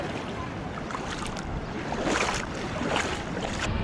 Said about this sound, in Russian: Где-то волна.